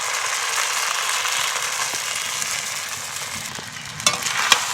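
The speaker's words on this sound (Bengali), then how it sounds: "একসঙ্গে এটাকে খুব ভালো করে মিশিয়ে নিতে হবে।" Boiled chow mein being stirred into sizzling samosa filling in a hot pan, a steady frying hiss with the soft scrape of a spoon and a few sharper knocks near the end.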